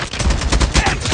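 Rapid gunfire from Call of Duty on the Nuketown map, a loud, dense burst of shots with repeated sharp cracks filling the whole moment, no talk.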